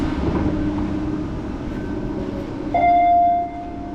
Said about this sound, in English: Oh, better hurry up. I want to get on the train.